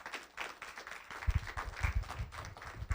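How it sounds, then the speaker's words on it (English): Scattered clapping from an audience, fairly distant and moderate, a steady patter of hands without cheering. "please, a big round of applause for Suncoast Credit Union"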